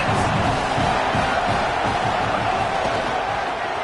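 A stadium crowd at an American football game keeps up a loud, continuous roar with a dense wash of voices and no single clear break.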